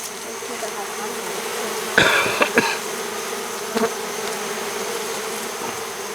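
A honey bee swarm being moved from a bait trap into a beehive fills the air with a steady, close buzzing drone, broken by a few brief knocks and handling noises.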